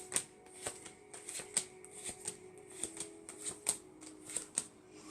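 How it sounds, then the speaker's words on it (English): Oracle cards being shuffled for a reading, a close series of crisp riffling clicks and soft slaps in an uneven rhythm, with no talking over them. "I'm going to pull some cards for Nicola Andrews."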